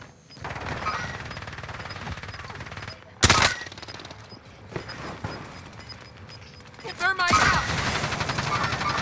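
Gunfire crackles in a Call of Duty Warzone match on Rebirth Island, with one sharp close shot standing out, then more bursts and rising noise toward the end.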